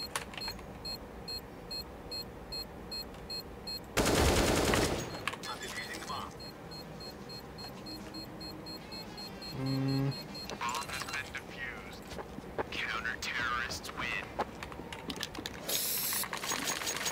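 Counter-Strike bomb defusal on the Train map during an ESEA pickup match: a mechanical whirring and ratcheting defuse sound over steady game noise, with a loud burst partway through and rising tonal beeps, under occasional voice chatter.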